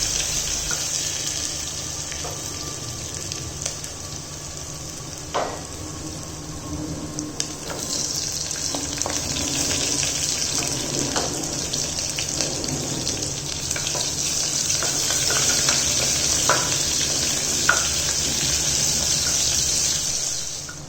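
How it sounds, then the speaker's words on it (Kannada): Ginger garlic paste frying in hot oil for a paneer biryani, giving a steady broadband sizzle with occasional pops and clicks that swells slightly toward the end, with no talking. "ಈಗ ನಾನು ಶುಂಠಿ ಬೆಳ್ಳುಳ್ಳಿ ಪೇಸ್ಟನ್ನು ಹಾಕಿಬಿಟ್ಟು ಎಣ್ಣೆಯಲ್ಲಿ ಕರ್ಕೋತಾ ಇದ್ದೀನಿ"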